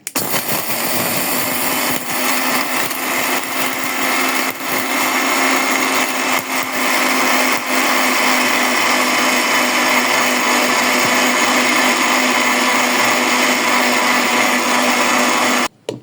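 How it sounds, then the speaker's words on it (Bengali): A blender grinds mustard seeds to powder for kasundi, running as a loud, steady whirring drone for nearly the whole stretch before cutting off at the end. "আর এটা আমি ব্লেন্ডারে ব্লেন্ড করে নেব"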